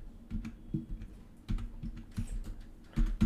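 Quick clicking keystrokes on a computer keyboard while entering JavaScript code, close and fairly quiet, in irregular bursts with a few heavier key presses.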